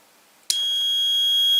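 A car relay energized on the bench sets off a steady electronic tone, a sudden loud onset that holds continuously and alone for the rest of the moment.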